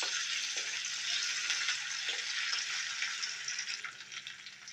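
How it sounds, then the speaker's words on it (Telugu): Onions frying in a pan for a curry, a steady close sizzle with a few soft stirring scrapes, continuous throughout and easing slightly toward the end. "ఇవన్నీ వేసి కొంచెం బ్రౌనిష్గా వచ్చేదాకా వేయించుకోవాలి ఉల్లిపాయని"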